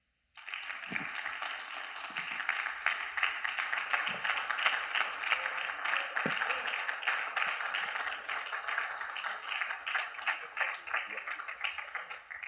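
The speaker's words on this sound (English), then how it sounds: "let's give another round of applause" Audience applause at a men's empowerment summit, a dense, steady patter of clapping from a crowd sustained for many seconds at a moderate distance, with occasional voices mixed in.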